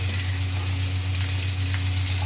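Eggplant and stalks fry in a little oil, giving an even, close sizzle with a low steady hum beneath and no voices.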